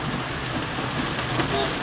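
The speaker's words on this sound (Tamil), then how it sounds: "இங்கே மழை பெய்யுது, நல்லா அடிச்சு பிரித்து எடுக்குது மழை" Heavy rain pours on the Yercaud loop road, a dense, loud, unbroken hiss of falling water with no gaps across the short stretch.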